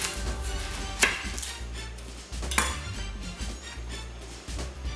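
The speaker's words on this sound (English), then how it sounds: "So slice the onion in half." A knife cuts through an onion on a board, giving a few close, sharp thunks spaced apart amid faint kitchen clatter.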